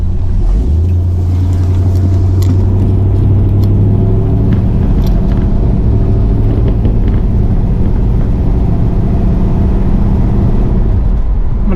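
A Pontiac LeMans engine idles loudly while warming up, holding a steady deep rumble with a slight rise in pitch early on, running alone without voices.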